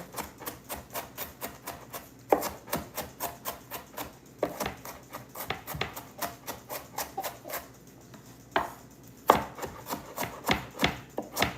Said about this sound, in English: as soon as I get through chopping up everything for the potato salad